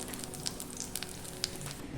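Raisins fry briefly in ghee in a pan for sheer kurma, a soft, continuous sizzle dotted with small crackles.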